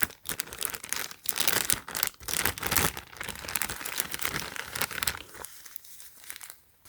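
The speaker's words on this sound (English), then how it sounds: "Go and then come with this Ziploc bag, so let's go and unzip it. Remove the tape out first." Plastic crinkles and crackles up close as a Ziploc bag of slime foam bead supplies is handled and tape is pulled off it, dense rustling bursts that quieten near the end, with no voices.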